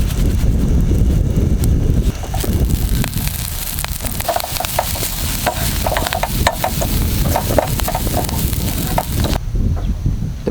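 Shrimp stir-fried in a pan outdoors in a forest, with close rattling scrapes and crackles of stirring and sizzling over steady outdoor noise and wind.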